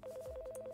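A telephone rings in a video game: a rapid trilling electronic ring with fast regular pulses, steady and moderately loud, heard alone without speech.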